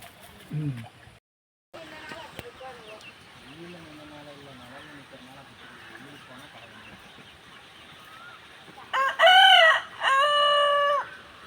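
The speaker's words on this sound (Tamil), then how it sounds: "இப்போ தான் சேவல் கூவுது" A rooster crows loudly near the end, a long ringing call in two parts, in early afternoon near Amaravathi dam, over steady background noise with some faint talk earlier.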